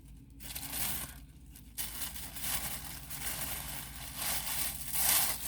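Wrapping paper is torn off a package close up, with several ripping and crinkling bursts over a few seconds and no talking.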